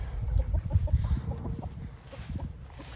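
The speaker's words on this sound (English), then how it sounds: "Oh, chickens are in the garden." Chickens cluck close by in short, repeated bursts, with low rustling and scratching underneath.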